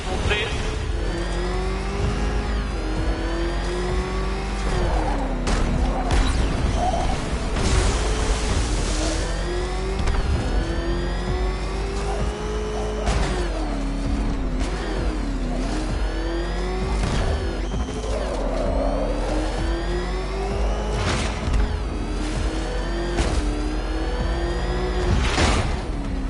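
A roaring Batmobile engine from Batman: Arkham Knight revs continuously, its pitch rising and falling under a steady loud mechanical drone with scattered bursts of game noise.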